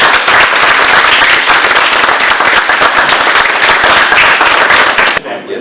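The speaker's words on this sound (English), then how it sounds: "I think you need a round of applause for all the great work you've done." Loud, dense applause from the audience at a historical society meeting, continuous sustained clapping close by, cutting off abruptly near the end.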